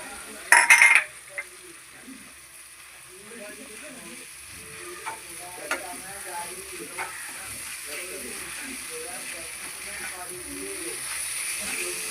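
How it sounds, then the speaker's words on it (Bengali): Spices stirred in a pan, then grated potatoes added to frying oil, with a soft steady sizzle and a few sharp clatters of a utensil against the pan early on, for an egg cheese patties recipe. "একটু মশলাগুলো নাড়াচাড়া করে দিয়ে দিচ্ছি এবার গ্রেট করা আলুগুলো।"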